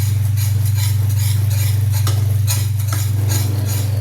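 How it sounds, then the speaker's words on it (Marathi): Gram flour (besan) is stirred and dry-roasted in a pan over a very low flame, giving soft repeated scraping and light patter strokes over a steady, loud low hum that runs throughout. "बेसन चांगलं तांबूस रंगावर भाजून घ्यायचं."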